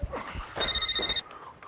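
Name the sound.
telephone ringing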